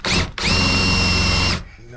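A power drill fitted with an old, dull resharpened bit drills nearby in an off-grid house under construction, with a short burst, a brief pause, then a longer steady whine before winding down.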